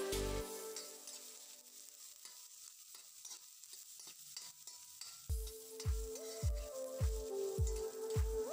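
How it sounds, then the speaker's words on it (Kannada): Onions fry in a pan with garlic for an egg dish, a faint soft sizzle with regular scraping stirs of a spatula, plus low rhythmic thumps in the second half; no one speaks. "ಆನಿಯನ್ ಕೂಡ ಚೆನ್ನಾಗಿ ಫ್ರೈ ಆಗಲಿ"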